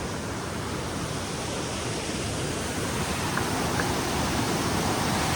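Steady, loud rushing of a fast mountain stream, a dense continuous roar of water filling the whole stretch with no voices.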